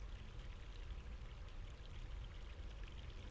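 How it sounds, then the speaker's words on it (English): Mountain stream in the video game The Longest Journey, a faint, steady rush of flowing water with no breaks, heard alone without any voices. "there's a stream coming up through here"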